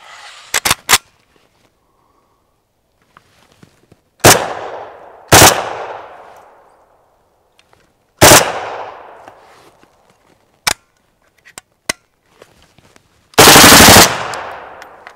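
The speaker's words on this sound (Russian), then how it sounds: "И, пожалуй, я хочу еще раз стрельнуть и приступим к разборке." An AK-203 assault rifle fires loud, sharp single shots spaced several seconds apart, each followed by a ringing echo, with a short automatic burst near the end and faint clicks in between.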